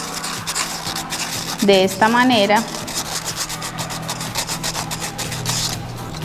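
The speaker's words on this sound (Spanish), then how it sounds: "Las lijé para quitarles un poco de la pintura que ellas traen" Soda bottle caps are sanded to strip off part of their paint, giving a steady gritty rubbing that runs through the whole clip under a brief spoken phrase.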